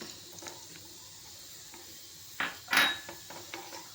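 Raisins, cashews and almonds frying in a small pan for a sweet tempering for sabudana payasa, with a quiet background and a couple of short sizzling bursts and utensil clinks near the end.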